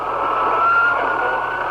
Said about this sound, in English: The sirens were picked up by the open microphone as the stricken president was rushed to Parkland Hospital